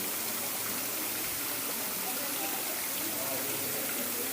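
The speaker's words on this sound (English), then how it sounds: "It's raining." Rain falls steadily inside a glass-roofed flower conservatory in San Francisco, a dense even hiss of drops that goes on without a break and nearly fills the space.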